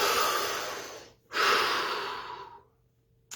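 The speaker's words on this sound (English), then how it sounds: "Take a deep breath." A slow, deep breath taken during a guided relaxation session, close and breathy: a long inhale, a brief pause, then a long, gradual exhale that fades into quiet.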